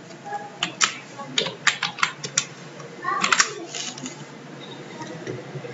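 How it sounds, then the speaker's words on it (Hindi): Keys on a computer keyboard are pressed for Alt-key shortcut combinations in inventory software: irregular close clicks, with a quick cluster of taps in the middle and softer presses toward the end. "उसके लिए हम कीबोर्ड से प्रेस करते हैं ऑल्ट के साथ"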